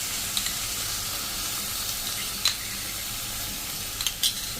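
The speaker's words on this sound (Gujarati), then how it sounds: "અને હવે આપણે આમાં આપણે જે મલાઈ લીધી છે એ નાખી દેશું." Okra sabzi sizzles steadily in a pan as malai cream is added and stirred in, with a constant frying hiss and a few soft clinks and scrapes of the spoon; no voices.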